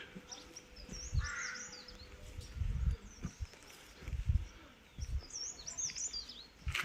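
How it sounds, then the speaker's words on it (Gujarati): Crows caw several times over scattered high bird chirps, with faint footsteps or rustling; the calls come from a flock at some distance, among tall trees near Hidimba temple, Manali, in the morning. "પક્ષીઓનું ટોળું"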